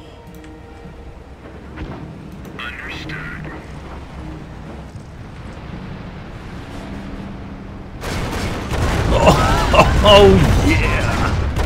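A rocket barrage in the World War II strategy game Company of Heroes: Tales of Valor, a loud rumbling burst of explosions and rushing noise erupting partway through, building over muffled battle ambience, with a brief voice exclamation.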